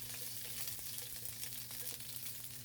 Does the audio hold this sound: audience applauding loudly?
no